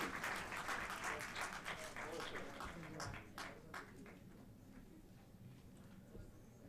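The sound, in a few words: audience applause at a ceremony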